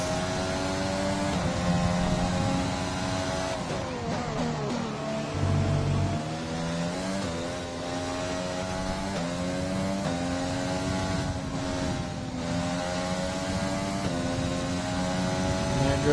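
Formula 1 cars in the F1 2020 racing game, Spanish Grand Prix, roar past one after another with high engine whine rising and falling, loud and continuous with no voices.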